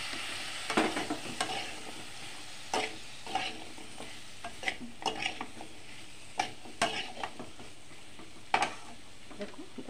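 Pumpkin pieces frying with turmeric in a pan, a quiet constant sizzle broken by irregular scrapes and clinks of a spatula stirring against the metal.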